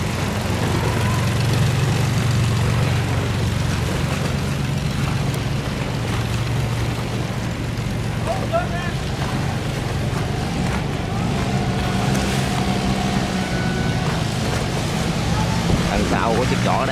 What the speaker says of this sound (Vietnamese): Ở dưới đó là động cơ lớn.